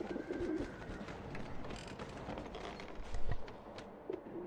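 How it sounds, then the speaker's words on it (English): Pigeons coo in the video game Alice: Madness Returns, a couple of soft, low burbling calls at the start and end over a murky ambient background, no speech. "Stupid pigeons."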